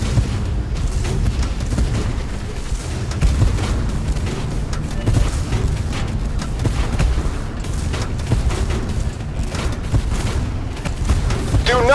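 Booming tank cannon fire and explosions in the Tank Force video game, dense and continuous with heavy low rumble, repeated blasts over a steady battle din.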